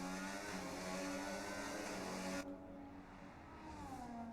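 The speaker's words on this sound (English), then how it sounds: "The sound of that engine roaring through the tunnel here in Monaco." A racing car engine roars steadily through the Monaco tunnel in a sim racing game, a loud continuous high-revving drone that shifts abruptly midway as the car exits or changes gear, with no talk.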